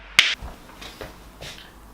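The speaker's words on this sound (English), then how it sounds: "I swear I heard a clapping sound." A single sharp clap or snap rings out once near the start, loud and close, followed by faint quiet rustling.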